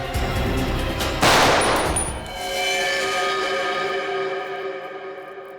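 A single loud gunshot rings out indoors in a tense confrontation, a sharp blast that trails off into a long echoing decay, with a low sustained tone underneath.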